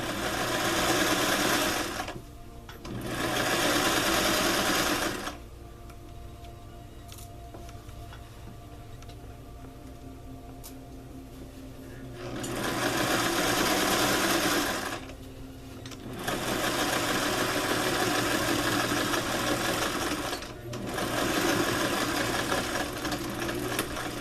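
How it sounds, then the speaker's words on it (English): A sewing machine stitches in a placket zipper in several loud bursts of fast, even whirring, with quiet pauses between them while the fabric is repositioned. "Sewing straight."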